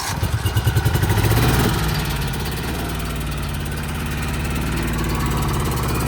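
A Rayco RG27 stump grinder engine cranks over and catches, then settles into a steady, loud running idle close by for several seconds.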